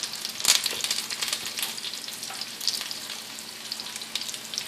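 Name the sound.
chicken pieces frying in hot oil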